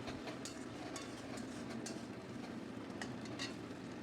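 Chopped tomatoes being stirred in a cooking pan, a soft continuous low sizzle with faint scraping and clicking from the utensil, quiet and close.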